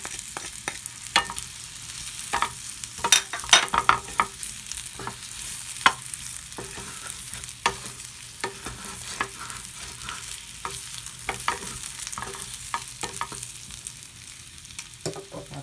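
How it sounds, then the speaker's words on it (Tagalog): Marble potatoes frying in butter and garlic sizzle steadily in a pan, with repeated stirring clatters and scrapes throughout; no voices. "Isahin lang sa butter at bawang ang ating potatoes."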